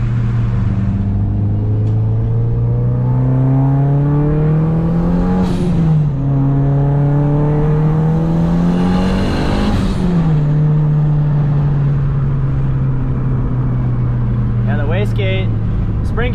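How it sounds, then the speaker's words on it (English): Turbocharged Evo wagon accelerating on the street with a new turbo and a 21-pound wastegate spring, its loud engine drone rising and falling in pitch through two pulls, turbo whine layered on top, with a person talking over it. "you definitely hear the turbo. It sounds cool."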